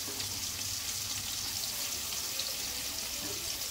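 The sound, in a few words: mixed spices, tomato, onion, garlic and ginger frying in pan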